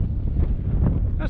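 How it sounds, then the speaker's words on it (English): Heavy wind buffeting the microphone in a low, roaring rush that swells and eases over a brief moment. "The winds are gusting up."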